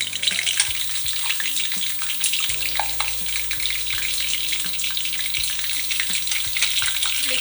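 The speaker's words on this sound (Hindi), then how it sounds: "अभी हम ये सारे कबाब को फ्राई कर लेंगे।" Kebabs fry in a pan over high flame, giving a dense, continuous hiss and crackle up close, steady and loud throughout with no voices.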